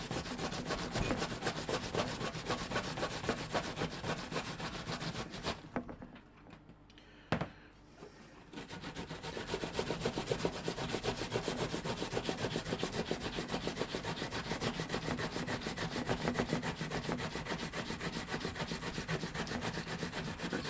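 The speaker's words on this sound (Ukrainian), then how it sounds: "На саму мілку натираємо." Food rubbed steadily over the finest side of a hand grater, a close, continuous rasping scrape that runs on with one short break partway through.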